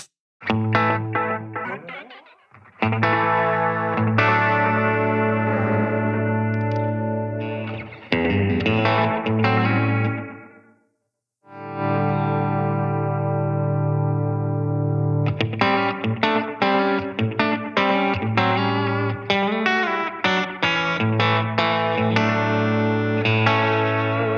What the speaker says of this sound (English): Now we have the faux tape echo.